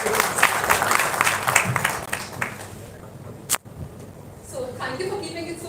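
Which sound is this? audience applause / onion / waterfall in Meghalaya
audience applause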